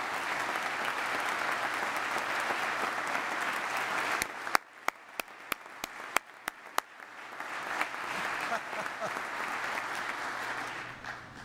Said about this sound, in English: you got a bigger round of applause than I did.